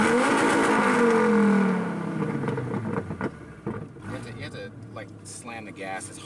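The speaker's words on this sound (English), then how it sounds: "Slam the gas as hard as you can" A sports car engine roars loudly as it accelerates hard, then the sound drops away into quieter running while voices talk inside the car.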